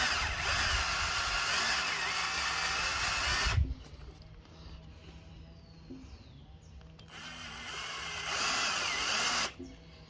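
A power tool runs in two sustained bursts, tightening a screw while fitting a SUR-RON electronic power pedal kit, with a quieter pause between the bursts.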